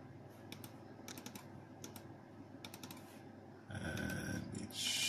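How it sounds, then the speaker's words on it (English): Computer mouse clicks while a folder is opened on a PC with an older Realtek sound driver: a series of sharp, quick clicks in small bursts over a steady low hum, followed by a louder electrical buzz near the end. "But open a folder and let's do a clicking sound."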